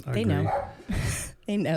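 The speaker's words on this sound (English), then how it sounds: "Oh, that's my dog." Dog barking at home, with sharp barks and yips overlapping loud, close speech from several people, the barks partly masked by the voices.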